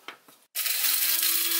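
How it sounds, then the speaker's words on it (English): A blender grinds cumin seeds, peppercorns, dry red chilies and coriander seeds into a fine masala powder. Two faint taps come first, then after a brief gap the motor roars up and holds a loud, steady whirring grind to the end. "In a blender, add 1 teaspoon of cumin seeds, 2 teaspoons of peppercorns, 3 dry red chilies, 1 teaspoon of coriander seeds and grind it to a fine powder"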